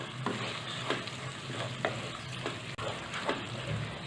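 Chopped blanched spinach being stirred into cooked tomatoes in a pan for dal palak, with steady scraping strokes of a spoon recurring about once a second over a soft, continuous sizzle.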